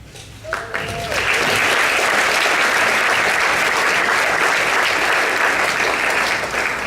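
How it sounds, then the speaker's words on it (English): Sustained audience applause at a student medal ceremony in Loudoun County, starting after a brief quiet moment and then holding steady and full for several seconds, with no talk over it. "Please hold applause until I say all names"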